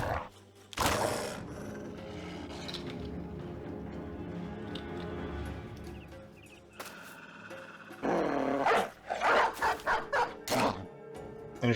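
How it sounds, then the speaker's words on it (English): A dog barks in the Battle Brothers video game, several loud yips and bows in bursts near the start and in a cluster toward the end, with game sounds and music between. "let's put the dog out"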